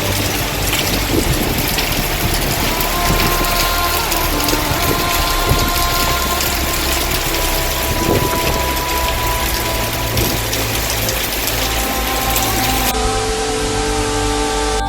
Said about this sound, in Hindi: अभी धूप थी और कितनी बारिश पड़ रही है, ऐसा लग रहा है कि तूफान आ गया।